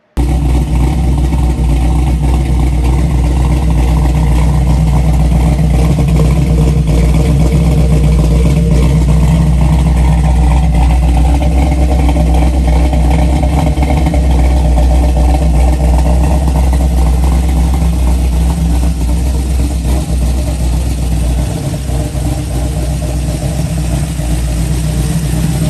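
A 1972 Chevrolet Nova V8 engine running close by: a loud, continuous, low mechanical roar with slight swells in revs, holding steady for the whole stretch with no voices.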